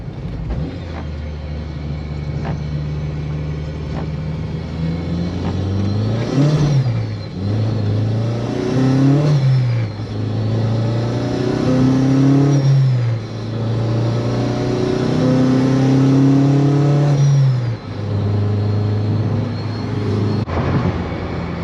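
A K20-swapped Honda Civic pulls lightly while cruising, its engine note rising in pitch through several steady climbs with brief dips between gear changes, loud and close throughout with no talking.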